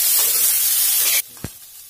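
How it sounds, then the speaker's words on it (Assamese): Pork sizzling in a dry wok with no oil, a loud steady hiss of frying that cuts off abruptly after about a second, followed by one short clatter. "কেৰাহীত তেল দিয়া নাই মাংসখিনি দি দিম আৰু জুইটো কমাই মাংসখিনি ভাজি থাকিব লাগিব"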